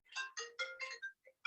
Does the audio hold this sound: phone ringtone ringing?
yes